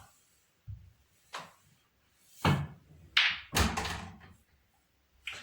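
Cue strikes a ball on a 6ft pool table, a few sharp knocks and clacks close by in a quiet room, with short gaps between them.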